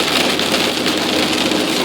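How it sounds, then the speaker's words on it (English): Heavy rain drums steadily on a vehicle during a road trip, a dense, loud, continuous wash with no pauses and no voices. "It's raining pretty good."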